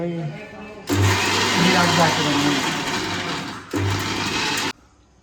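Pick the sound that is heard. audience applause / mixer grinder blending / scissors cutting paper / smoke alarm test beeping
mixer grinder blending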